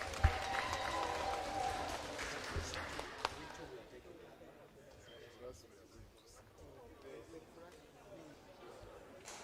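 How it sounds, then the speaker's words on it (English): Applause from members in a parliamentary chamber during a sitting of Uganda's 12th Parliament, a broad crowd clapping that starts loud and dense, then thins into scattered claps with murmuring voices over about nine seconds. "when did we start clapping in Parliament?"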